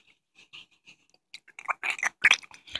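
Close, crisp chewing of chicken tenders, starting with soft, sparse bites that build into wetter, louder crunching and mastication toward the end, with no talking.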